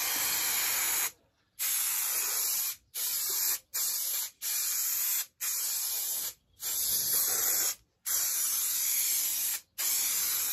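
Spray adhesive hisses onto the headlining of a Mercedes SLK R170 in a series of loud, close bursts, each lasting about a second, separated by brief silent pauses.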